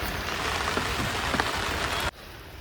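Steady heavy rain of a pre-monsoon storm patters on a surface outside a shepherd's camp, a dense continuous hiss that suddenly drops to a quieter level near the end.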